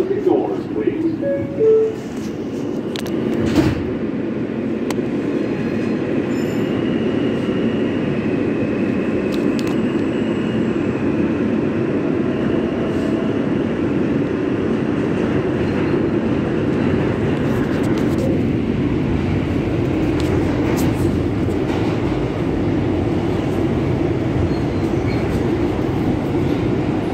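Queens-bound R160 G subway train riding between stations, a steady loud rumble and rail roar filling the whole stretch with a few brief squeals and clunks, continuous and close.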